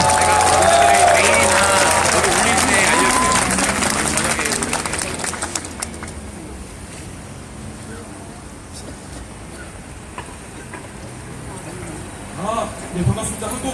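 Audience applause at a rally of victims welcoming a guest speaker, a loud dense clapping under a voice and amplified sound that gives way to quieter crowd murmur.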